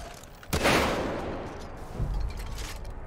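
Gunfire in the video game Far Cry 5: a sharp, loud shot with a decaying echo, followed by a softer second report, heard alone without talk.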